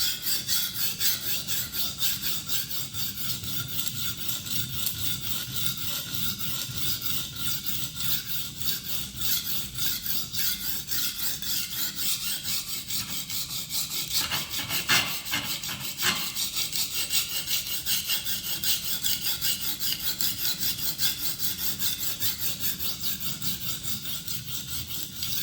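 A blade rubbed back and forth on an Atoma 140 diamond plate to form a new bevel, giving a continuous gritty, raspy scraping in a steady stroke rhythm, close and fairly loud with no talking.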